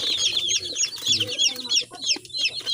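Newly arrived broiler chicks peep and chirp continuously in a rapid, high-pitched chorus, close and fairly loud, with no talking.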